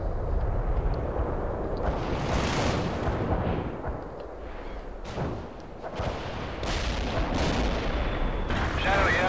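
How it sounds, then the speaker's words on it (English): Cluster bomb explosions in the real-time strategy game World in Conflict, a loud, continuous rumble of blasts with several sharp bursts breaking through over about nine seconds. "I probably can call in a cluster bomb, yeah. That'll finish it off."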